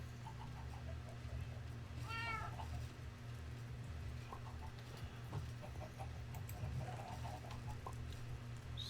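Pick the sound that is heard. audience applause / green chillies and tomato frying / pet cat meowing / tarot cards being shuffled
pet cat meowing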